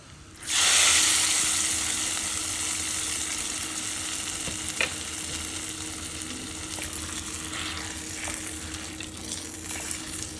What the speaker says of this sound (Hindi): यहाँ पे मैं घी में इसे थोड़ा सा हल्का सा फ्राई कर रही हूँ